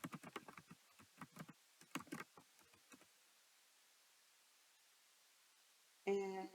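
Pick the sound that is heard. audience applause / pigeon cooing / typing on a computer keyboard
typing on a computer keyboard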